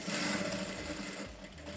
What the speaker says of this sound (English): So I'm sewing this shape.